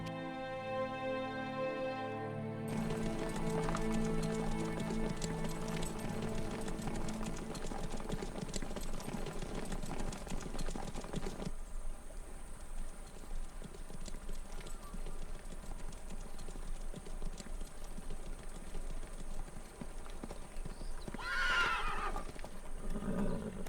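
Horses in the Turkish historical drama Ertugrul Ghazi gallop with steady, dense hoofbeats over background music for the whole stretch, with neighs rising above them, and one clearer whinny near the end.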